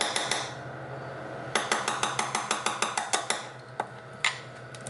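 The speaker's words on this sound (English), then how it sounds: "you're going to take a hammer, and you're going to hammer this guy" A steel hammer taps a punch against a watch bracelet pin, giving a quick run of about a dozen sharp, ringing metallic ticks close by, with a few scattered taps before and after and no talking.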